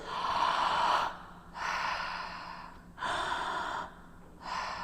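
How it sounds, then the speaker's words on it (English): Slow, deep breathing through a wide open mouth during a standing balance practice, with long airy breaths alternating in a steady rhythm, close and fairly quiet. "You'll breathe with a wide open mouth like this."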